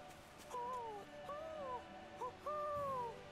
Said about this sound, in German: der zweite ist, wenn die Eule selbst zu hören ist